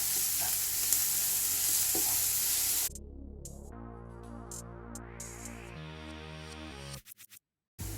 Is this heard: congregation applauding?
no